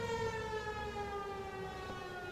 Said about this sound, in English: you can even hear the sirens